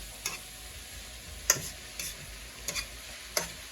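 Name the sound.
collard greens sauteing in pan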